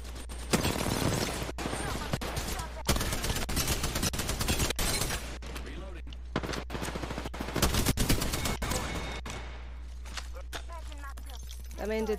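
Rapid gunshots and machine-gun bursts ring out in a competitive shooter match, sharp repeated cracks clustered in volleys across the clip, with a voice talking between the shots.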